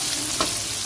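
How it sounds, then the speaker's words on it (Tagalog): Garlic and onions sizzle in a hot pan, a short burst of frying with a stir partway through, close and fairly loud. "gisa na natin to guys, bawang sibuyas"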